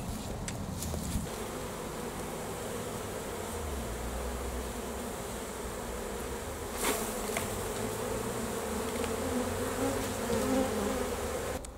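Honey bees buzz continuously and densely around a beehive super in a suburban garden, a close, steady droning hum with occasional knocks and handling sounds, and no talking.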